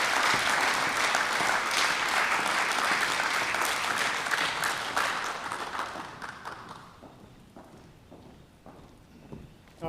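Loud, dense crowd applause at a Burlington Democrats nominating caucus, honoring the candidates, rolling steadily for several seconds before thinning into scattered claps and fading near the end.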